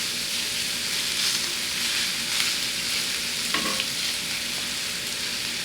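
Rinsed hash browns go into a hot skillet coated with extra virgin oil and sizzle loudly and steadily, a dense unbroken frying hiss with a faint scrape partway through.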